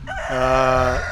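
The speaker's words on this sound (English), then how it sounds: "if you hear that rooster crow" A rooster crows once, loud and close, a full cock-a-doodle-doo on a ranch in Bucerías, Mexico, with no talk over it.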